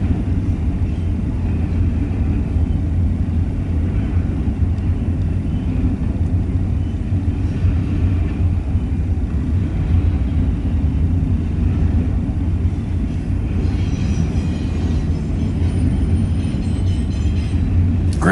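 A long freight train with new well cars and a mid-train C44 ACTE DPU locomotive rolls past, a loud continuous low rumble of wheels and cars with steady clatter throughout and no talk.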